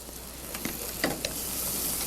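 Butter and shallots sautéing in a pan, giving a soft steady sizzle with a few small pops and scraping ticks, close and fairly quiet.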